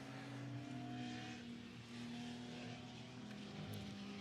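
Historic touring race car passing through Pouhon at Spa during Heritage Touring Cup qualifying, a faint, distant steady engine drone with layered tonal hum over a constant broadband roar.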